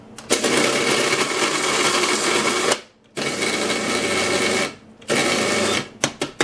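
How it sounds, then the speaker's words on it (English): Small food processor whirring loudly as it chops rolled oats and coconut pulp, in two long steady bursts separated by a brief pause, followed by a few short pulses. "And my little food processor."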